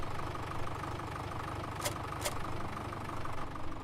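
A tractor in a farming video game idles with a steady, low, continuous drone, fairly quiet and even throughout, broken by two brief hissing bursts and no talking.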